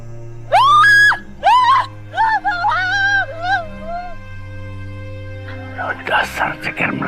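A woman lets out a few sharp, high screams close by, then her voice trails into lower wails before others start talking.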